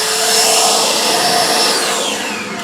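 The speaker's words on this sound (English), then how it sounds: "let me hit it with the blow dryer and try again" A blow dryer blasts air to clear water off a car's paint, a loud, steady whooshing roar with a whining tone that shifts in pitch near the end.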